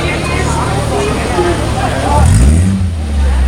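A classic car with a sporty exhaust rolls into an outdoor car and bike show at a shopping mall, its engine note swelling nearby amid a babble of crowd chatter and people talking.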